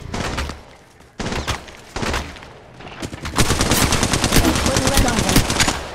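Automatic gunfire in the Apex Legends Mobile video game, rapid bursts of shots in short clusters then a long sustained volley, loud and close, with game voice lines mixed in.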